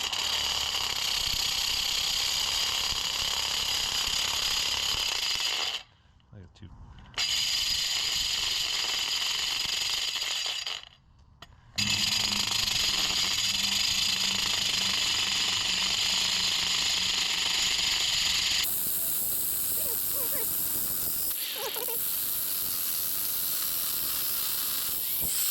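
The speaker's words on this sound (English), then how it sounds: "I keep all my hands away from it and just ride it around the stump there and see if we can cut it off" An angle grinder with a ToughGrit diamond blade cuts through a galvanized steel pipe stump, giving a loud continuous grinding hiss broken by two brief pauses, then a shift to a brighter, harsher tone near the end.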